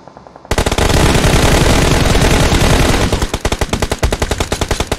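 Loud, close automatic gunfire in PUBG Mobile on the Erangel map: a sudden dense burst, then a rapid rhythmic string of individual shots toward the end, with no talking.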